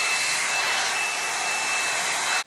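A hair dryer blows steadily while drying hair for a volume blowout, a loud constant hiss with a thin whine riding on top, running alone until it cuts off abruptly at the end.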